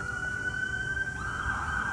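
A fire engine siren wails steadily at a moderate distance, one high sustained tone holding over low rumbling traffic noise, with no voices.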